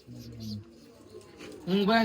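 Low, soft coos from pigeons kept in lofts roll out near the start, with people talking nearby and a louder voice near the end.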